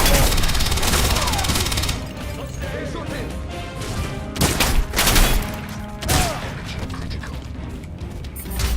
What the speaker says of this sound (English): There's someone shooting me from distance.